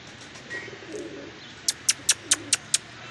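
Pigeons coo softly and low in the background, then a quick, evenly spaced run of six sharp claps rings out nearby, with no talking.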